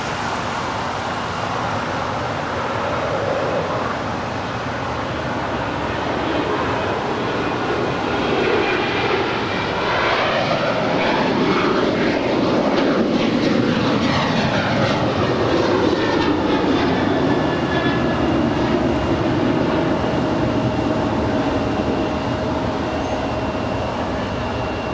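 An Alaska Airlines Boeing 737-900ER departing from LAX gives a loud, sustained jet engine roar that swells and shifts in pitch as it passes, steady throughout with no voices.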